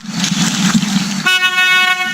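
A riverboat school transport in the Amazon sounds a loud, steady horn blast partway through, following rumbling engine and water noise on the river.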